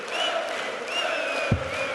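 Crowd at the 2016 International Darts Open final, Suljovic versus Huybrechts, roaring steadily with a rising cheer and a short thump about midway through.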